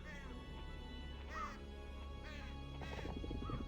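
Duck-like quacks and caws from birds in the King's Bounty: Crossworlds game world, several short calls scattered over a steady low background hum, fairly close and moderately loud.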